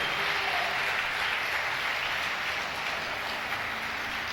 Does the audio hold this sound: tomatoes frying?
no